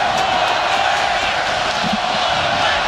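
A rugby stadium crowd at a New Zealand versus France final in Auckland roars and yells continuously, a dense, loud, steady wall of massed voices with chanting rising over it.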